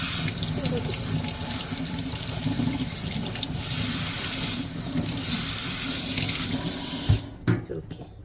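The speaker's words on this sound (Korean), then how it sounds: "이렇게 물로 살짝만 헹구래요." Pine mushrooms rinsed under a kitchen tap, a steady rush of running water into a sink, close and continuous, ending with a few clunks and knocks as the flow stops.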